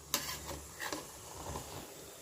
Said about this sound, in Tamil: இப்போ நான் கிண்டி விட்டு காமிக்கிறேன்.